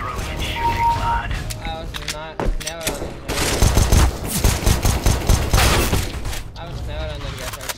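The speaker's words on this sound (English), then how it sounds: "Oh, that's brilliant shooting, lad." Rapid gunfire in the video game CS:GO rings out in loud bursts and single shots, with someone talking over the shooting.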